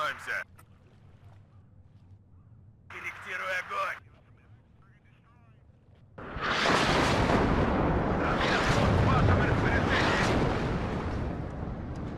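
Artillery in the WARNO strategy game fires a sustained, roaring barrage that starts abruptly and stays loud for several seconds, following brief bursts of a voice talking.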